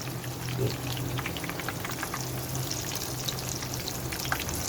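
Vegetable tikki pakoras, coloured with turmeric and shaped like kebabs, fry in oil over medium heat, giving a steady close sizzle with scattered small pops and crackles throughout.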